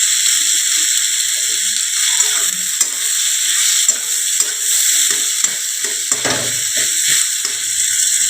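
Potato frying in a pan, a loud continuous sizzle with repeated scraping and clicking as a spatula stirs the pieces around.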